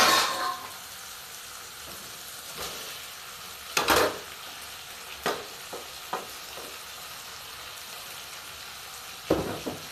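Tomatoes sautéing with ginger and garlic in a pan for mutton gravy give a soft steady sizzle, broken by a few sharp clinks and scrapes of a spoon stirring, with no talking.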